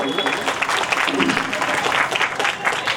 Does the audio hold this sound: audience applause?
yes